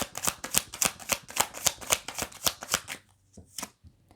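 Tarot cards shuffled by hand, a rapid, even run of crisp riffling flutters for about three seconds, then a few slower separate card snaps, close and alone without speech.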